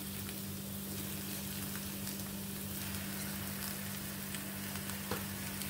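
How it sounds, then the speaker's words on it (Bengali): Chicken pieces sizzle steadily in a hot spice mixture in a pan, a dense, even frying hiss with faint stirring clicks and a low steady hum underneath, no voices. "এবার এর মধ্যে আমি চিকেনগুলো দিয়ে দিচ্ছি।"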